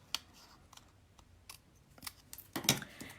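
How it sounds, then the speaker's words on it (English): Faint snips and sharp clicks of scissors cutting the handle off a paper cup for a gift card holder craft, scattered soft cuts ending in a louder crisp snap near the end. "I'm going to cut off the handle."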